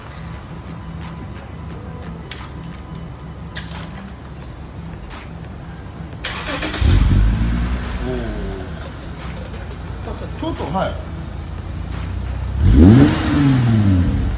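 A Toyota Crown's engine idles with a low rumble through a Three Cats muffler, then swells in two loud revs, the second coming several seconds after the first, while people talk nearby.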